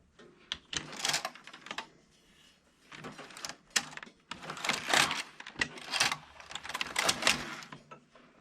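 A Passap E6000 knitting machine knitting two rows: its carriage slides across in rattling, clattering sweeps, two bursts in a row with short pauses between them, close by and with no talk.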